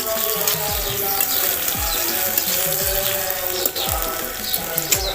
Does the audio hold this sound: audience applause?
no